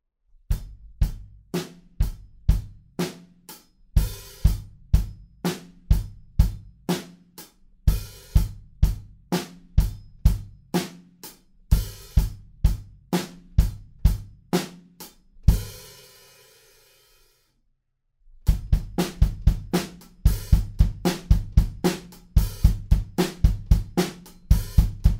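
Drum kit playing the pre-chorus groove of a song, with a second snare hit moved off the backbeat onto the end of beat three and a sizzled hi-hat at the end of four. It is close, loud and punchy, with a short fill and a brief gap midway.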